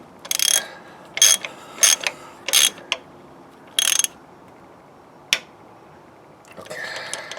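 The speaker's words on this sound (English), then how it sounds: "I'll torque her down with the wrench, of course." A ratchet wrench torques down a spark plug on a Renault Megane Mk3, with about six crisp, close bursts of clicking separated by short pauses, then a faint rustle at the end.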